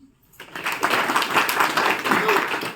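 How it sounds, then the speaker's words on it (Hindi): An audience at a Brahma Kumaris spiritual gathering breaks into clapping after a pause, the applause rising quickly and holding steady, fairly soft and somewhat distant. "तो ना ताली बजा लो।"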